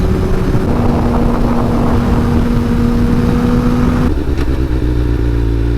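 A rebuilt, previously wrecked Suzuki GSXR 600 sport bike is ridden, its engine holding a steady buzzing tone before the revs drop sharply, heard close with constant wind rush.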